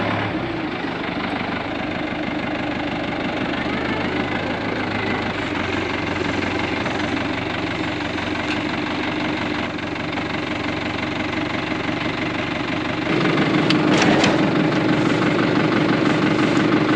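An engine drives a grain auger filling a silo with corn, a steady, close mechanical drone with a rattling undertone that holds for the whole stretch and swells louder near the end.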